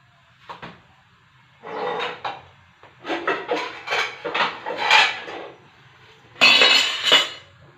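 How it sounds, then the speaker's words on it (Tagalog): Metal clanks and clinks in a kitchen as a lid is worked onto a pressure cooker holding pork leg paksiw, several separate loud bursts of scraping and knocking with brief quiet gaps between them. "Ayan, tatakpan muna natin. Ayan, niluto na lang natin siya sa pressure cooker para mabilis"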